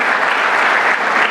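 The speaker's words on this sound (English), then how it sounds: "can we have a huge round of applause, everyone," A dense burst of applause from a panel discussion audience, loud and continuous with no talk over it.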